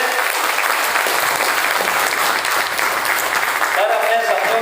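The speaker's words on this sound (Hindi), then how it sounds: "जोरदार स्वागत करें सर तालियों से" Loud, sustained audience applause at a gathering in Mubarakpur, Azamgarh, welcoming a speaker to the stage. Steady dense clapping fills the whole stretch, with a brief voice near the end.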